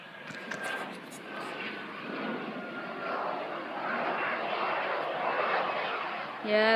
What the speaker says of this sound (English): It's coming in for landing.